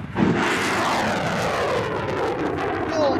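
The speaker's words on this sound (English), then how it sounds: "I hear the very accurate rocket noise." A rumbling rocket roar from the video game The Final Station, a broad steady engine-like noise that swells slightly and stays loud throughout, with no voice over it.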